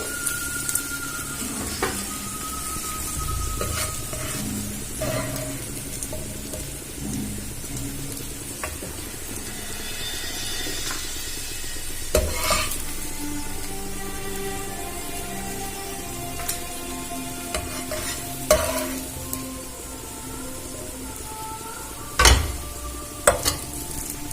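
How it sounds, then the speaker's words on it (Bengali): Mixed vegetables, including potato, stirred and fried in a pan: a continuous soft sizzle broken by repeated scraping and clinking spatula strokes against the pan, close and fairly even throughout. "এবারে এটা ভালো করে নাড়াচাড়া করে ভেজে নেব। সবজিটা আমি খুব ভালো মতো ভেজে নেব।"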